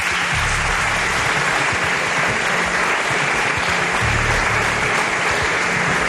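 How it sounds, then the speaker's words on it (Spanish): An audience applauds a writer at a public talk in Cantabria with continuous, loud, evenly sustained clapping from many hands, over a faint low hum. "para quien pido un aplauso"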